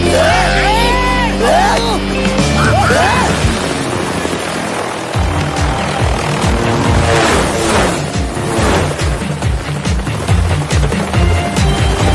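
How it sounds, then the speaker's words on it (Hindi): A cartoon helicopter whirs loudly over a busy soundtrack, its rotor chop pulsing steadily beneath music, shouts and swooping effects. "हेलीकॉप्टर को स्लो कर दीजिए।"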